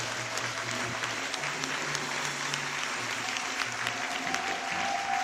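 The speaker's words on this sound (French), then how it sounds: "Levons-nous et disons merci par acclamation au Dieu de la prophétesse Naomi." A church congregation in Côte d'Ivoire breaks into loud, sustained applause, dense clapping filling the space with a murmur of voices beneath.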